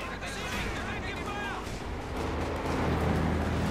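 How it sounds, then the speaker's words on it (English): Light infantry guns fire in the strategy game Company of Heroes 2, with booming artillery-like blasts and rumbling battle noise running under continuous commentary. "Lieutenant though takes some nasty losses from the light infantry guns, blasting away there."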